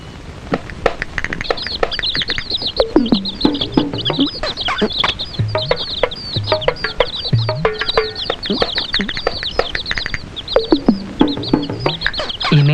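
Chickens cluck and peep close by in busy, overlapping bursts, a lively farmyard chatter of short calls repeating throughout.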